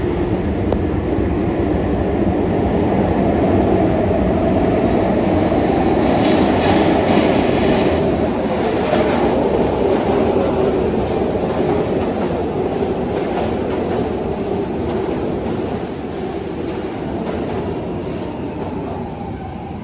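A train rolling past a station platform in Philadelphia, Pennsylvania, with a steady loud rumble of wheels on rails that stays close and constant throughout, along with faint rhythmic clatter and no talking.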